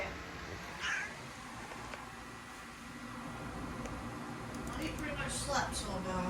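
A cat meows a few times at close range indoors, the short calls rising above a steady fan-like hum, with a person talking nearby.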